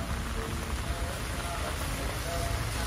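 Steady, dense rain pours down outdoors, a constant loud hiss of drops hitting surfaces with no break.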